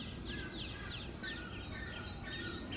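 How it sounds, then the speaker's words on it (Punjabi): Faint morning birdsong drifts in from a distance, with repeated chirps and tweets over a soft, steady background hiss. "ਪੰਛੀਆਂ ਨੇ ਵੀ ਸਵੇਰੇ ਸਵੇਰੇ ਰੌਣਕਾਂ ਲਾਈ ਵੀਆਂ ਤੁਸੀਂ ਆਵਾਜ਼ਾਂ ਸੁਣ ਰਹੇ ਹੋਣੇ"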